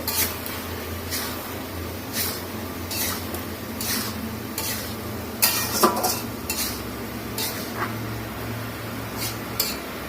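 Metal spoon scraping and stirring vegetable curry in a cooking pan, with repeated short scrapes and clinks at an uneven rhythm over a steady low kitchen hum, close by and moderately loud.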